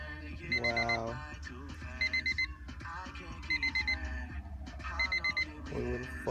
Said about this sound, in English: what the fuck is this subwoofer sound?